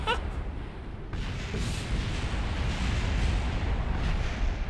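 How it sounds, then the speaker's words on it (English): A rocket stage explosion in Kerbal Space Program, a loud roaring blast that rumbles on continuously as a heavy, sustained boom. "Oh, I heard an explosion."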